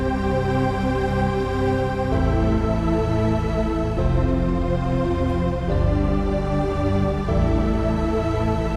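Granular synthesis on a Sonicware Liven Texture Lab, blend set midway and speed slowed to -47, forms a thick, droning harmonic wash with a slow pulsing texture and occasional chord shifts, loud and continuous without talk.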